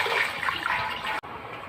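Water poured into a pot of cooking dal with tamarind and chilli, a steady close splashing pour that cuts off abruptly near the end, then a softer continuing trickle.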